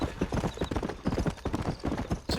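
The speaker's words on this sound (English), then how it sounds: "Horse won't go any faster! Go faster!" Horse hooves gallop in a fast, steady clip-clop rhythm in the Western game Red Dead Redemption, loud and close throughout with no talk over them.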